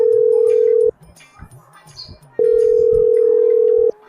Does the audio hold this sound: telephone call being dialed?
yes